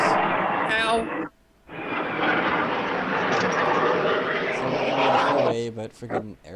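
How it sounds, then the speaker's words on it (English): An airplane engine drones loudly overhead, a steady roar that cuts out briefly and returns, with people talking over it. "friggin' aeroplanes going overhead from the sounds of it"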